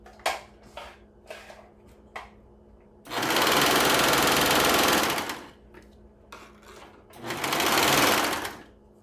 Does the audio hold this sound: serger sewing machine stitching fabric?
yes